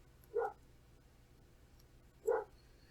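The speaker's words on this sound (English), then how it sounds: "of course you can hear the dog in the background too" A dog barks twice in the background, two short muffled barks about two seconds apart, faint and distant in an otherwise quiet room.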